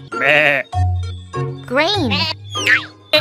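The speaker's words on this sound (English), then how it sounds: "Sheep." Sheep bleats on a farm, several wavering calls in quick succession, close and loud, with a low steady tone and other animal sounds around them.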